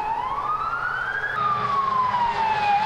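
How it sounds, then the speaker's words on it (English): A fire truck siren wails from a distance on a farm, its pitch sweeping slowly up and then down in a long steady cycle over a low background rumble. "sounds like a fire truck"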